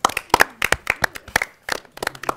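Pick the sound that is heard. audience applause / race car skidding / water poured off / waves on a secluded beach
audience applause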